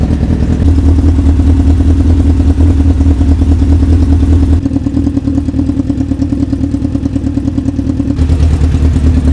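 A Honda Fireblade engine runs close and loud with a steady clattering idle, holding a constant rough drone with a slight shift in tone partway through rather than sharp revs.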